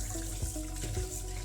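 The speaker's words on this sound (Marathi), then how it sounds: "हे कणगे पाण्याने स्वच्छ धुवून घ्यावेत, कारण त्याला माती लागलेली असते" Water runs and splashes while kanage (Dioscorea, a lesser-known wild tuber) are washed clean of soil by hand, giving a steady close wash with a few louder sloshes.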